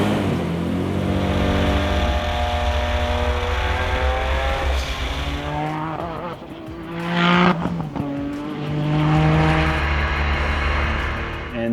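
A race car runs on track during pre-season testing ahead of its first official test date at Road Atlanta, its engine loud and close, rising and falling in pitch through gear changes with a brief lift mid-run.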